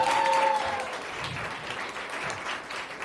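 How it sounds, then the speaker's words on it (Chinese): Audience applause fills the room during a live song performance, a dense steady patter of many clapping hands, fairly loud at first and then easing slightly while continuing throughout. "掌声鼓励一下。"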